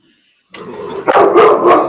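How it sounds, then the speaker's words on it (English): A pet dog barks loudly and close in a quick run of sharp barks that starts after a moment of silence, with nobody talking over it. "That's my dog"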